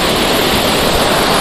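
A tall waterfall in Kanyakumari roars as a loud, dense, continuous rush of falling water, close and unbroken.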